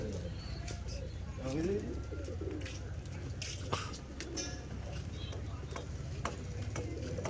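Pigeons coo in soft repeated low calls amid rooftop ambience, with scattered sharp ticks and flutters as the birds take off and fly, and a voice talking now and then.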